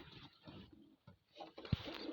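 Pigeons newly bought by a Ukrainian/Russian-speaking keeper, including crested and grey-tailed birds, give soft low cooing in a loft, with a brief louder thump near the end amid background rustle.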